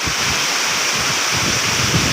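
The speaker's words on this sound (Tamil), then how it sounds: "தண்ணியுடைய பரப்பளவு பெரிய அளவில் ஆலை போல் கடந்து சென்று கொண்டு இருக்கிறது" Water pours over the Anaimedu waterfall near Tharamangalam in Salem as a steady, loud, close rushing roar with no breaks and no talking.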